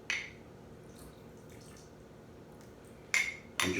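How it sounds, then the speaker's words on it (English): Water being drained off microwaved fruit in a kitchen: a clatter of a dish at the start, a quiet stretch, then bright sloshing pours and clinking near the end, no speech. "I'm going to drain off the water"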